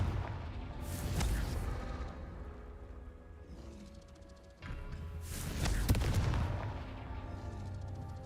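Confringo explosive spell blasts in Hogwarts Legacy, two loud booming bursts a few seconds apart, each followed by a rumbling decay over low game ambience.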